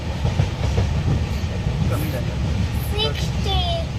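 Steady rumble and clatter of a moving train heard from inside a carriage on a Konkan trip, with voices talking over the noise.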